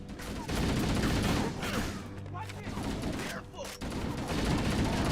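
Dense bursts of gunfire and explosions fill a Halo video game battle, loud and nearly continuous, with a voice talking underneath the combat.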